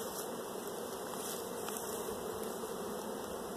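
Honey bees drone steadily in a busy hive box of frames being pulled for a cell builder, a dense continuous buzz close by with no talk, holding even loudness throughout.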